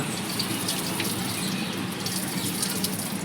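Cold water pours steadily from a public drinking-water tap, a close, constant gushing hiss with no break and no talk.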